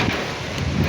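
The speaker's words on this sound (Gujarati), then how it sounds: "વરસાદ પણ એ પૂરેપૂરો ચાલુ થઈ ગયો છે." Stormy coastal weather at Dahej, with rain falling steadily and wind buffeting the microphone in a dense, continuous roar, loud and close throughout with no voices.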